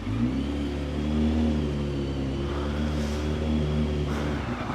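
A motorbike engine revs and pulls away from a petrol station forecourt on a wet day, a steady, close, low rumble that climbs slightly throughout with no talk.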